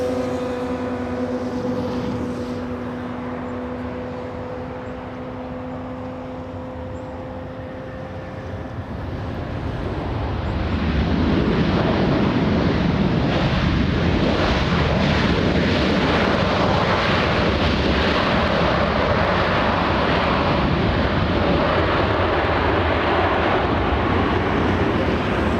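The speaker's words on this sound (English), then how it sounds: "Looks like we have a 787 flying in from Haneda. United Airlines 38." A United Airlines Boeing 787 arriving at LAX from Haneda builds from a distant hum into a loud, broad jet roar that holds steady for the final fifteen seconds, with no one talking.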